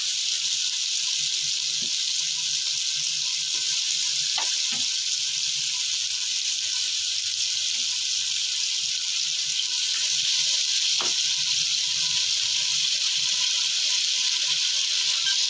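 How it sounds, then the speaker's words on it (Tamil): Tomatoes, onions and ginger garlic paste sautéing for mutton biryani, a loud continuous hissing sizzle close by, with a few faint knocks and no talk. "நல்லா தக்காளி வெங்காயம் வதங்கட்டும்"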